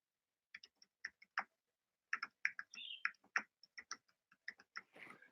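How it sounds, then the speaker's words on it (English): Keys clatter on a computer keyboard while an email is typed, in quick uneven bursts of clicks with short pauses, close and fairly quiet, with no talking. "Here, I'm typing out the email for you guys."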